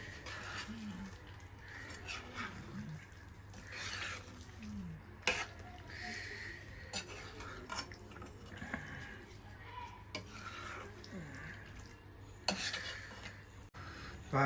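A spoon stirring white sauce pasta in a pan, soft scraping and clinks of utensil against metal recurring irregularly, fairly quiet with a low background hum.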